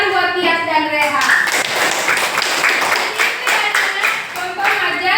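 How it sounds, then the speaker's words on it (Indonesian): Students in a classroom break into applause, a burst of quick, close hand claps in a loose rhythm after a teacher's voice, with children's chatter mixed under the clapping. "Bagus sekali, tepuk tangan buat Tias dan Rehan."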